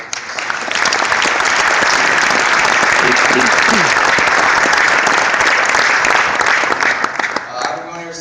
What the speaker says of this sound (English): Everyone can give a round of applause to all of our coaches.